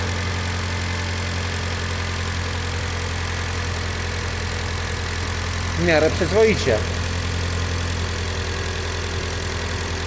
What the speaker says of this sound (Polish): a jak słychać to ten silnik pracuje